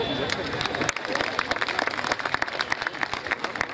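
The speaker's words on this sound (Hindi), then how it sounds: "जोरदार तालियां।" An audience at an Urdu poetry gathering organised by the M.P. Urdu Academy claps steadily throughout, a dense patter of hand claps mixed with general crowd murmur.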